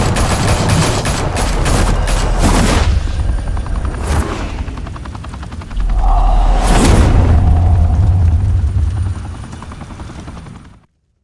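Gunfire in the video game Batman: The Telltale Series: a rapid volley of shots rattles out over the loud, steady thrum of a helicopter, then a heavy boom lands before the roar fades out.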